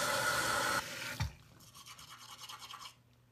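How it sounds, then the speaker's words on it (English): Close, rapid scrubbing of a toothbrush with toothpaste, loud and bristly for about a second, then a brief clatter followed by softer intermittent brushing strokes that fade out. "And here's my toothbrush."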